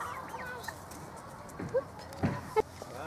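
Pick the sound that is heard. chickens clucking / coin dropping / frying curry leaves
chickens clucking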